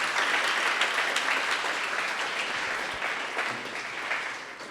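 Applause from a gathered audience at a youth event, an even rush of many hands clapping, moderately distant and steady throughout with no speech over it.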